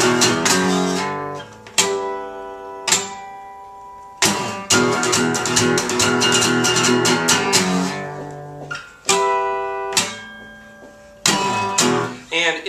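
Electric guitar playing a lick with a slide-off finish, bursts of galloping chugged notes and ringing chords with short gaps between phrases, loud and close with no talking.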